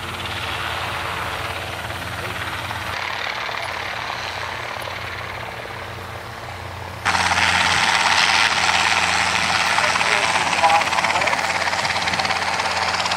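Piston engine of a Beechcraft Baron fitted with a Continental engine, running steadily at an airfield, then stepping up to a louder, harsher roar partway through.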